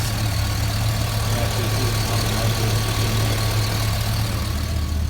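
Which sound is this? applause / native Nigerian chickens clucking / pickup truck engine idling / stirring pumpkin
pickup truck engine idling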